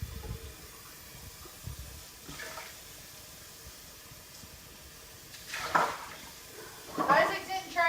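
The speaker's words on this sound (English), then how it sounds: "Give a good rinse so that way I don't have the particles floating around as much when I'm washing it." Dishes are rinsed under a running kitchen tap, a continuous wash of water with occasional clinks and knocks of dishware, growing louder toward the end.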